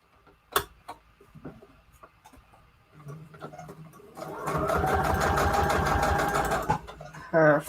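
Sewing machine stitching a paper flower onto a mini book page: scattered handling taps and clicks first, then a rapid, even run of needle stitching for about two seconds before stopping.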